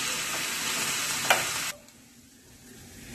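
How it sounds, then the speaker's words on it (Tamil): Onion and grated coconut sauté in a pan with a steady hiss for the first half, a single sharp scrape near the middle, then the sizzle drops away to a faint low murmur. "வெங்காயம் வந்துச்சு, தேங்காய் தூளையும் லைட்டாக வதக்கிக்கலாம்."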